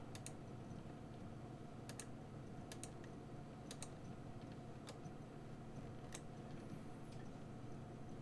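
Sharp, sparse clicks of a computer mouse tapping one spot at a time while coloring a pencil drawing in Photoshop, about eight quick transients over a steady low room hum, with no talk.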